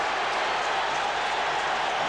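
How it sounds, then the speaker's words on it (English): A packed football stadium crowd roars during a 1985 Los Angeles Rams at New Orleans Saints game as the home team faces fourth down and a foot. The dense, steady wall of noise holds constant from start to finish. "Hear the crowd."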